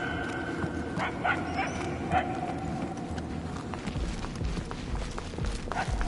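Dog barking in the video game Guardians of the Galaxy, a few sharp, distant barks scattered over a steady ambient game soundscape with footsteps-like clopping.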